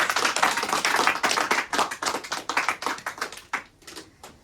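A church congregation claps steadily for several seconds, a dense run of hand claps that thins and fades toward the end.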